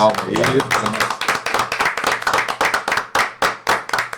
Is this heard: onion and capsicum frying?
no